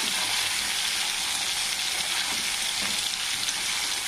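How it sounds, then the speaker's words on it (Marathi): Onion and tomatoes frying in a pan for a ridge gourd and toor dal dish, a steady dense sizzle holding at an even level throughout with no talk. "कांदा टाकल्यानंतर टाकणार आहोत टमाटे. त्याची असे फ्राय होऊ द्यायचे."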